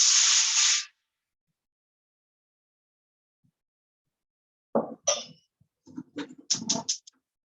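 Oyaki steaming in a pan after water is added gives a loud, brief hissing burst of steam at the start, then silence and a few short, scattered sounds.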